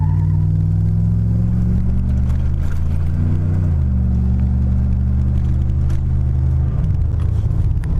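An old 360 V8 car with a throttle body spacer and cold air intake pulls from a stop up to about 40 mph, its loud, close engine rumble climbing in pitch through the gears.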